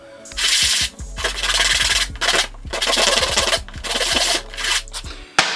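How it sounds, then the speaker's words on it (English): Scrap wood pieces rubbed by hand across sandpaper give close, loud, rasping strokes in a steady rhythm of several bursts with brief pauses between. "you can just sand it by hand on that"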